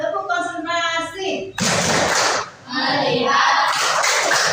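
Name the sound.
class doing a rhythmic concentration clap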